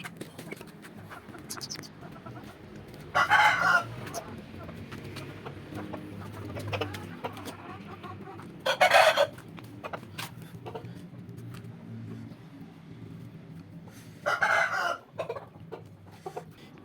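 Hens and a rooster in a backyard poultry coop, with soft clucking throughout and three loud, brief bursts of calls standing out over quiet background noise.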